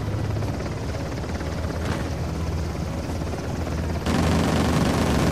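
A helicopter in the video game Uncharted: The Lost Legacy drones with a steady, loud rotor roar throughout, swelling louder and brighter near the end with no talk over it.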